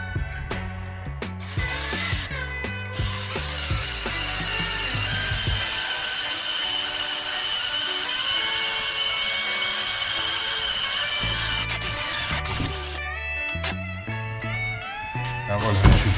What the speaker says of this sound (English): that wasn't too bad drilling that hole